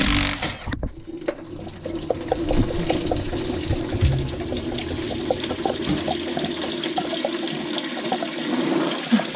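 Coolant pours steadily from a 2016 Chevy Express 2500 into a drain pan, a continuous splashing, gurgling flow that starts abruptly after a brief pause and runs close and fairly loud throughout.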